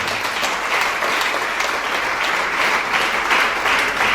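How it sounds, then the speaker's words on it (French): A church congregation claps loudly and continuously, a dense, even wash of applause filling the room throughout. "Acclamez très fort pour la parole de Dieu"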